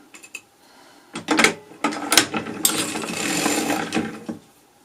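A sock knitting machine's mechanism clicks and ratchets as a needle is lifted, a run of light mechanical clacks and rattles followed by a brief whirring rasp, all close by.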